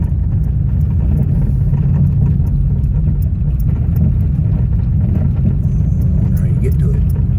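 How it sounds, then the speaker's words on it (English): A truck drives toward the listener at a desert RV campground near Quartzsite, its steady engine rumble and road noise filling the scene loudly and continuously. "No, truck's coming towards us."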